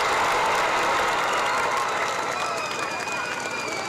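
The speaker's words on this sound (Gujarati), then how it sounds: "આપણે જોરદાર તાળીઓ પાડી એમનું અભિવાદન કરીશું." A large audience at a school function claps together in loud, sustained applause that carries evenly from start to finish.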